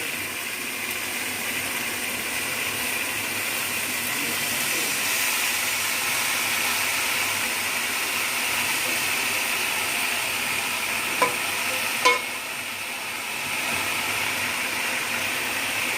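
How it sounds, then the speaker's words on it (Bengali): Malabar spinach goes into a hot pan of spiced mixed vegetables for an Ilish fish-head curry, giving a steady, even sizzle and hiss throughout, with a couple of faint clinks near the end. "কেটে রাখা পুঁই শাকটা দিয়ে দিচ্ছি।"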